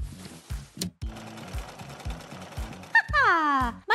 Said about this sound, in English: Time to sew!